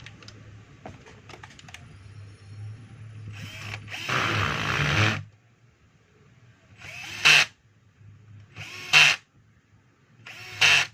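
Power driver running in screws on a DeWalt D25501 rotary hammer under repair, one longer whir followed by three short, evenly spaced bursts, each loud and close.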